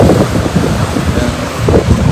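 Strong, cold wind aboard a cruise ship buffets the microphone in gusty, rumbling waves, close and loud, with a faint wash like surf underneath.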